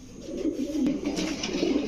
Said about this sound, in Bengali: এখন দেখেন পুরা ব্রিডিং মোডে আছে কবুতরগুলো